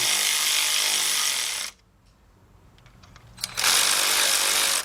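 A cordless ratchet with a 13mm shallow socket tightens bolts on the upper front timing cover of a 1997 Mercedes-Benz E320 W210 3.2. Two loud, close whirring bursts are separated by a quieter pause.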